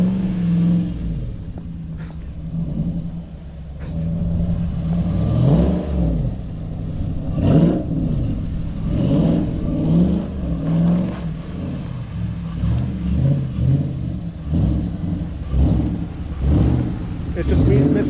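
A 2014 Dodge Charger R/T AWD revs and drifts on a snowy surface, its engine rising and falling in loud, close, repeated surges, with people talking over the rumble.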